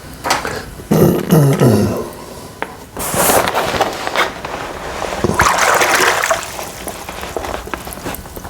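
Trekology UL80 inflatable sleeping pad pushed down into bath water, close sloshing, splashing and bubbling with rubbery handling squeaks and bumps, water churning more steadily toward the end.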